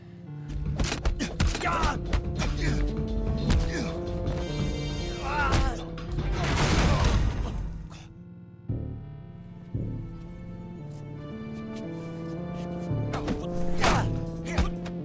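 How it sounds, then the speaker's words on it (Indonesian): A violent movie fistfight from a Donnie Yen film, with sharp thuds, slams and crashing impacts of bodies hitting each other and surfaces in irregular bursts, set against a sustained music score. "Perkelahian terjadi dengan sangat sengit di mana mereka berdua saling mengunci dan membanting satu sama lain."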